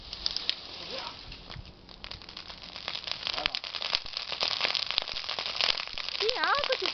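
A large bonfire burns with dense, continuous crackling and sharp pops throughout, growing louder toward the end, while excited voices exclaim nearby.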